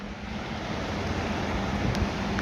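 Flood-swollen River Don in Sheffield in 2024 rushes past close by, a steady, unbroken roar of fast-flowing water with no voices.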